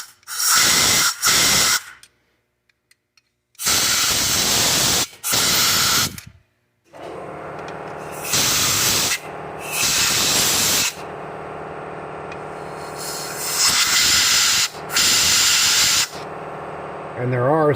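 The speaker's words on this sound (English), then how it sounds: "So I'm going to go ahead and spray some carburetor cleaner through there." Carburetor cleaner sprayed through the jets of a clogged Edelbrock 500 CFM carburetor, several loud close hissing bursts of varying length separated by silent pauses.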